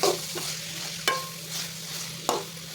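Raw prawn curry with chilli and salt is stirred in a pan, a steady close sizzle broken by a few sharp scrapes and taps of the spoon against the pan.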